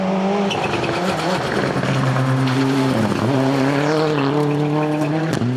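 A rally car tears along a stage at the Rocky Mountain Rally 2017, its engine loud and close, revving high and shifting through gears with brief dips and surges as it drives past. No one speaks.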